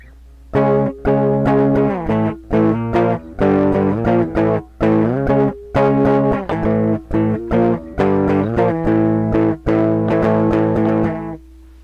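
Heavily distorted electric guitar power chords strum in a chugging rhythm, loud and sustained with brief gaps between chord hits.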